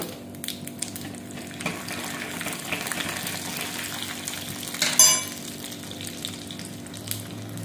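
Soft, steady sizzling of chana dal and urad dal frying in hot coconut oil, with light stirring and a brief scrape or clatter partway through; no talking.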